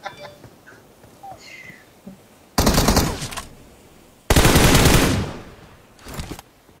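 Automatic rifle bursts from PUBG Mobile, two long loud volleys of rapid gunfire with a shorter burst at the end, broken by quiet gaps with faint game sounds.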